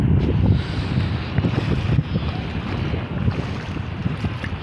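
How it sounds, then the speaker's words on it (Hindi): Sea waves surge and wash against the Qatar shoreline at night, a continuous rumbling swash with wind buffeting the microphone throughout and no voices. "देखिए किस तरह लहर मार रहा है इससे।"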